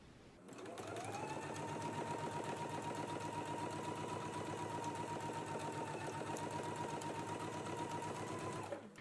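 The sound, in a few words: sewing machine stitching a collar facing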